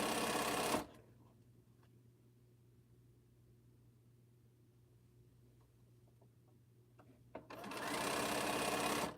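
Domestic sewing machine stitching in loud, steady bursts at the start and end of a quilting session, with a quieter hum and small handling noises between the two runs.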